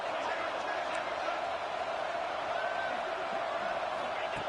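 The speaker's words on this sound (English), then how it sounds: "This crowd is trying to inspire this defense to make a big red zone stop." Stadium crowd at a football game roars steadily as the home defense tries to make a red zone stop, a continuous wash of distant massed noise with no distinct peaks.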